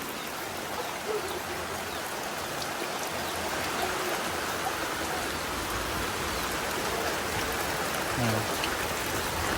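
Heavy rain falls in a steady, dense hiss, pattering without a break for the whole stretch, close and broad, with thunder in the setting and no clear talking.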